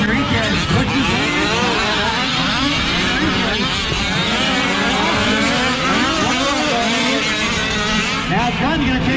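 Fuel-powered 1/8 and 1/5 scale RC race cars, including Losi 5iveT 2.0 and 5iveB, screaming down a racetrack straightaway with buzzing high engine whines rising and overlapping, loud and continuous under a race announcer's commentary.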